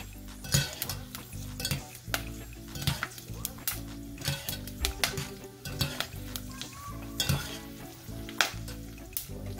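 Pork rinds (pork skin) fry in hot oil for crispy chicharon, a steady crackling sizzle broken by frequent sharp pops and bursts, with occasional utensil clinks against the pan, close and fairly loud throughout.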